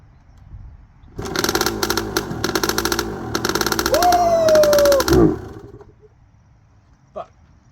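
A 1998 Yamaha YZ125 two-stroke motorcycle being kick started, sputtering into a loud, uneven run for several seconds with rising revs before cutting out, followed by a brief exclamation.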